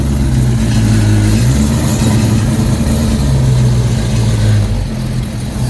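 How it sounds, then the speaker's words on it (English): A modified muscle car engine rumbles loud and close, a steady deep idle with slight revving swells throughout, no voices over it. "Yo, try not to rev so high."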